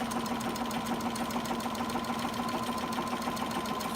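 A sewing machine runs steadily through a slow stem stitch on a quilt block, its needle moving back and forth, giving a continuous close mechanical hum and rapid chatter with no pauses.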